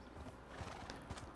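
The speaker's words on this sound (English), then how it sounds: "Oh, there's a horse over here." Horse hooves clip-clopping with a brief whinny from a horse in the Minecraft video game, a few soft separate steps at moderate distance and quiet level, with no talking.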